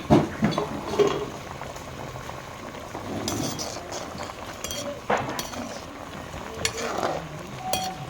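Assamese fish curry with slit green chillies and ginger simmering in a pot, a soft continuous bubbling and gentle stirring heard up close at low volume.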